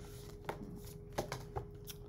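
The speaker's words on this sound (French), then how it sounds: "Je vais tirer d'autres cartes" Tarot cards drawn and laid down by hand, a few soft, crisp card flicks and slaps spaced out over a quiet room background.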